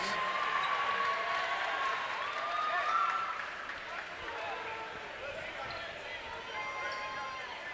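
Crowd at a girls' high school basketball game between Laconia and Waupun, a continuous indoor murmur and cheering with a ball bouncing on the court, under a commentator's voice.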